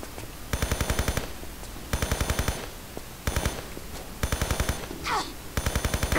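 Bursts of rapid automatic gunfire in the Tomb Raider video game, several loud volleys in rhythmic rattling runs separated by short pauses, with no talking.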